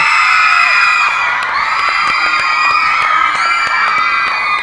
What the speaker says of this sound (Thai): ขอเสียงกองเชียร์ทีม A หน่อยแล้ว